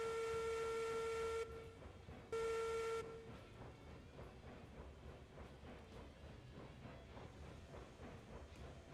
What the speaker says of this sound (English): I hear you when you hit the whistle